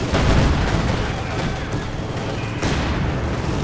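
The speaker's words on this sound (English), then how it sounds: "More mortar fire, machine gun fire." Mortar and machine gun fire in the video game Company of Heroes 2, a dense continuous roar of battle with thudding blasts and rattling gunfire, loud and unbroken throughout.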